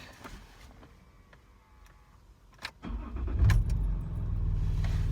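A Ford Territory 2.7L turbo diesel with its muffler removed starts up at about three seconds. A loud, deep, steady engine rumble follows and holds close for the remainder, after quieter car-cabin clicks and knocks.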